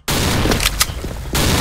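A video game grenade explosion, a loud, sudden broadband burst with crackling debris that rings out for over a second and then cuts off sharply into a continuing din of battle noise.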